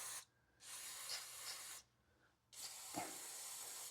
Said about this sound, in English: I'm spraying brake clean into the tops of the fittings here